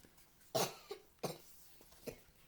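Three separate coughs, close and fairly loud, the first strongest and the last lighter, each followed by a brief quiet gap.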